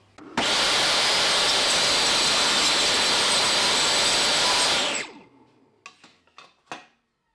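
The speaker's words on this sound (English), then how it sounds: "next thing is to chop this off on the table saw" Table saw rips the rough edge off a sanded wooden board, a loud steady whine for about five seconds, then spinning down followed by a few knocks and clatters.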